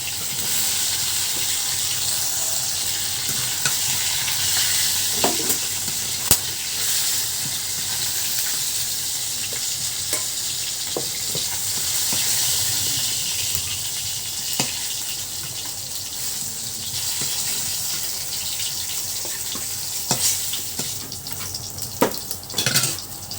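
Onion frying in a pan beside pieces of fish, a steady close hiss and sizzle with occasional faint utensil clicks.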